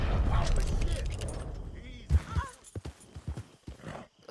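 A horse in the Red Dead Redemption 2 video game gives a loud snort-like whinny, then hooves clop in a short, uneven run, with a voice talking over it.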